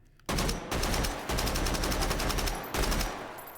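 A powerful gun in the modded VR shooter H3VR fires several loud bursts of rapid shots close up, with short gaps between the bursts.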